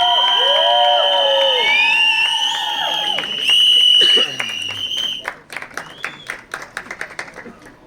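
A crowd at the trailer launch for the Hindi film Mere Husband Ki Biwi cheers with loud, shrill whistles, then the noise thins into scattered bursts of applause and individual claps toward the end.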